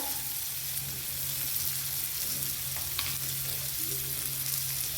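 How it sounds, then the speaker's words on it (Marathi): Potato sautés and is stirred in a hot pan while cooking a farsan snack, giving a continuous sizzle and crackle with occasional scraping stirs, close and with no talk. "आणि सर्व मिक्स करायचे मस्त अशा पद्धतीने छान परतून द्यायचे बटाटा"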